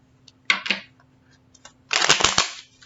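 Tarot cards being shuffled by hand, two quick riffling bursts early on followed by a longer, louder shuffle near the end, close and clear in a quiet room with a faint steady hum beneath.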